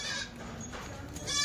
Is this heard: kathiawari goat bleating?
yes